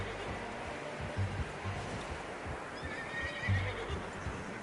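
A horse in Red Dead Redemption 2 gives a faint whinny over soft clip-clopping hooves, with a gentle wash of ambient background sound underneath.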